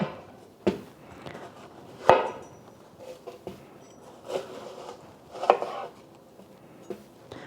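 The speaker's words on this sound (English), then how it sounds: "So I have 1 onion, and I'm just going to slice it" A knife slices through an onion on a wooden cutting board in a quiet kitchen, giving a handful of soft, irregular crunching cuts with gaps between them.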